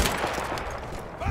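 Rapid machine gun fire in the Battlefield 1 game, a dense continuous burst of loud shots with no pause across the short stretch.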